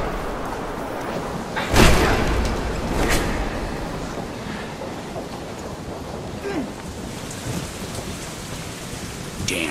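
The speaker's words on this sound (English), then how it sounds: "Damn storm." A thunderstorm in the video game Deadlight: steady heavy rain hisses throughout, with a sharp thunder crack near two seconds and another rumble a second later, then softer distant strikes.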